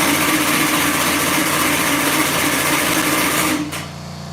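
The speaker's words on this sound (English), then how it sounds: "I usually turn on the engine to make sure it builds oil pressure" A car engine cranking and running steadily to build oil pressure, a loud continuous mechanical drone that drops off sharply near the end.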